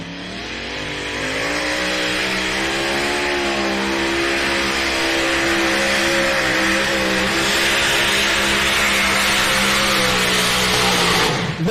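A pulling tractor at a truck and tractor pull at the Super National in Bowling Green, Ohio, its engine roaring loud and close in one sustained, steadily rising run of nearly twelve seconds with no voices over it.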